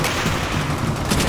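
Dense automatic gunfire and rapid shots crackle continuously in a Call of Duty: World at War campaign battle, loud and close with no pauses.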